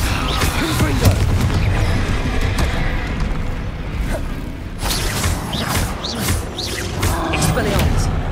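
Spell explosions from a Hogwarts Legacy duel, a Confringo blast among them, boom and crackle amid whooshing casts and clattering combat effects, with voices shouting over the dense, loud din.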